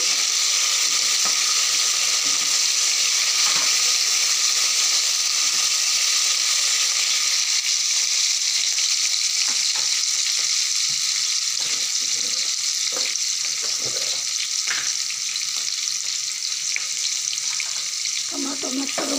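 Onion and tomato fry in goat leg curry with a constant close sizzle and crackle, broken by occasional stirring scrapes and small clatters, with no voices heard.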